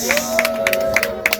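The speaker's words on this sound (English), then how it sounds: "Keep the applause going." Wedding guests applaud the newlyweds with scattered, rhythmic clapping bursts and crowd noise over a sustained tonal hum, moderately loud throughout.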